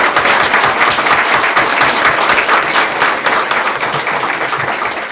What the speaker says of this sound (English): Esther and Neil Messenger, who I think deserve a great round of applause